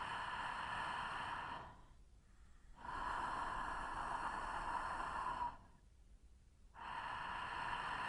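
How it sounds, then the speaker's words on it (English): Slow breathing with light throat friction, as in a breathing exercise: long, airy, hissing breaths with a soft rasp, alternating with short quiet pauses, close and steady with no talking. "So let's return to a correct throat friction."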